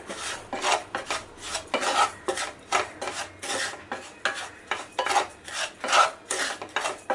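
Brown sugar is stirred in a pan until it melts for caramel popcorn, making rhythmic rasping scrapes about twice a second, close and steady, with no voices.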